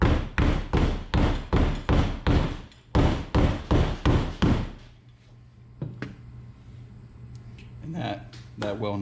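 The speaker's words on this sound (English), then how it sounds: "And all it should take is a couple of whacks with a hammer." A hammer strikes about a dozen times in a fast steady rhythm, loud close whacks forcing a well nut into a Perception Pescador PRO kayak hull, then falls quiet with faint handling noises.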